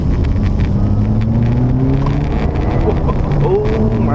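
Engine of a 2015 Opel Astra OPC pulling hard from second gear, a steady loud roar with rising engine tones throughout, heard from inside or close behind the car.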